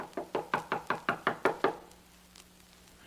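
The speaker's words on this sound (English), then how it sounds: "Just wanted to try the door. Might have been unlocked, but it's not." About nine sharp, evenly spaced knocks or rattles on a locked apartment door sound close and moderately loud, then stop, leaving a quiet room tone.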